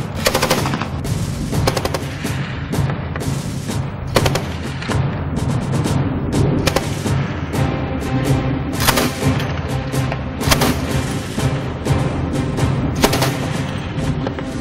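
Remotely controlled 12.7mm machine gun mounted on a BTR-3E1 armored personnel carrier, firing loud rapid bursts of heavy rounds in a sustained, uneven rhythm.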